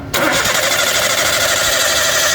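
Toyota Avanza petrol engine with DLI ignition cranking on the starter during a spark plug test, a loud, steady churning that begins abruptly and continues without catching.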